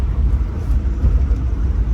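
A car driving along the road makes a steady, loud low rumble of engine and road noise heard from inside, with no breaks.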